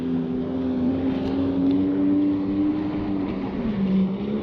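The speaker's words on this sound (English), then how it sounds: "Oh, listen to that 1200 waveblaster." A 1996 Sea-Doo XP watercraft with a 1200 Waveblaster engine runs at a steady high drone, a close, loud, continuous hum with slight pitch shifts as the throttle varies.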